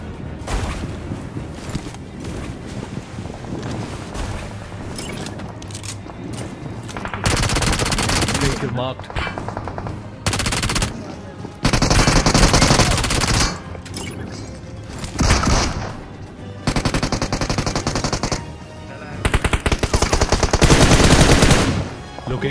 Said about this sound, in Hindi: इधर हिल से भी फायरिंग आ रही थी